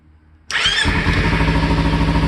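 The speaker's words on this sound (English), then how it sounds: "we're going to go ahead and start this up" A Kawasaki Ninja motorcycle on its stock exhaust fires up from cold after a brief quiet moment, catching at once and settling into a loud, steady, close-up idle.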